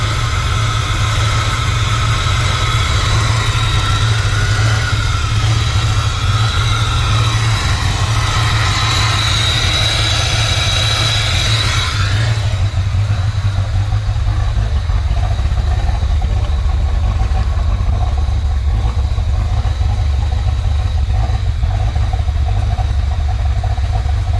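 A car engine idles steadily while warming up after head gasket work, a loud, close, continuous low rumble with no speech, its upper hiss dropping away about halfway through as the idle settles.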